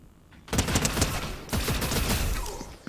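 Dense automatic gunfire in the Star Wars update of the Fortnite video game comes as rapid overlapping bursts, loud and continuous for several seconds after a brief quiet start, with no talk over it.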